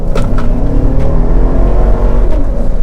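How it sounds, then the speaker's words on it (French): A GMC Yukon XL SLT engine pulls under acceleration with a steady, loud low rumble and drone that holds throughout, heard from inside the cabin with no talking. "l'accélérateur quand on appuie, ça répond plus que répond."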